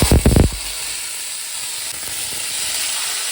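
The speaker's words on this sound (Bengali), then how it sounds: "এদিকে তেলটা গরম হয়ে গেছে আর এদিকে ভেজিটেবলসগুলো ধুয়ে নিয়েছি বা দিয়ে" Washed vegetables dropped into hot oil give a loud burst of sizzling in the first half second, then settle into a steady close frying hiss that continues alone to the end.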